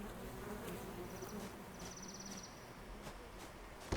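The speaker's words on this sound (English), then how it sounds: "There are many bees outside." Bees buzz steadily outdoors in the medieval sandbox RPG Mirthwood, a faint continuous insect drone with brief higher whines over soft ambient noise, no voices.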